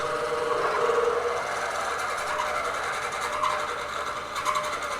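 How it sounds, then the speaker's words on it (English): A milling machine running at high speed drives a sharp bit into a steel blind flange, giving a steady, loud grinding whir that holds evenly for several seconds with no pauses. "And that's just drilling absolutely beautifully."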